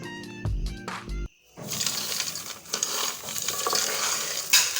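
Dry toasted peanuts rattle and scrape in a pan, a dense continuous clatter with stirring, after a brief burst of tonal sound at the start; no talking.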